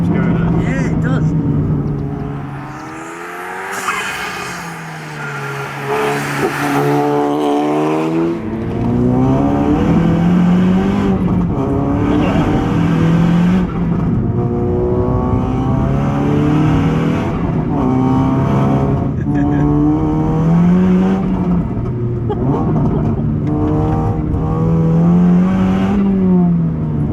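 A 484bhp VW Polo GTI 6C accelerates hard through its gears, the engine note climbing loud and steady with rising pitch sweeps at each shift, heard from inside the car under occasional talk.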